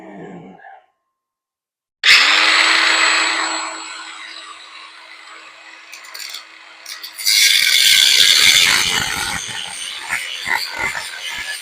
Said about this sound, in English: the problem is the body of the angle grinder is hitting the ear.